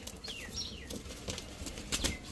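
A released pigeon, a jet-black high-flyer, beats its wings in a few quick, close flutters, with a short whistling sweep as it lifts away.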